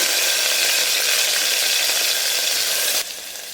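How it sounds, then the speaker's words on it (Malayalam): Chopped ginger and garlic sizzling in a hot pan, a loud, dense, steady hiss that drops abruptly to a quieter sizzle near the end, no talking. "ഇതിലേക്ക് ഞാൻ ഇഞ്ചിയും വെളുത്തുള്ളിയും കൂടെ ചോപ്പ് ചെയ്തതുകൂടെ ഇട്ട് കൊടുക്കുകയാണ്"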